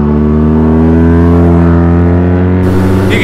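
A BMW R nineT motorcycle engine runs loud and close with a steady, throbbing drone, rising slightly as the bike pulls away, with a sharper burst of higher noise near the end.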